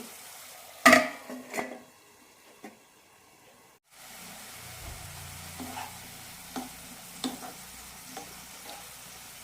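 Long beans stir-fry in a pan for a Kerala-style mezhukkupuratti, opening with loud clanks and scrapes of stirring, then a quieter steady sizzle with a few light taps of the spoon.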